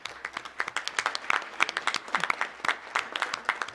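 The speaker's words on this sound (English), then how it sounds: "How about a round of applause for this dynamic family?" Scattered audience applause at a school board of education meeting, honoring a family; moderate, fairly sparse claps with distinct individual hand strikes rather than a dense roar.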